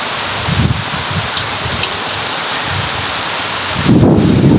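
A heavy rainstorm with thunder and gusty wind, a dense roar of rain with low rumbles of thunder rolling underneath and a louder swell of rumble near the end, close and without voices.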